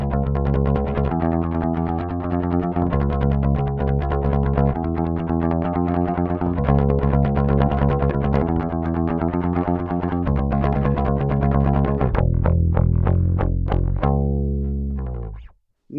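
Bass guitar through a Darkglass Microtubes 900 amp set for pick playing, a gritty driven tone with steady picked eighth-note lines, loud and close, ending in a few ringing notes that fade out.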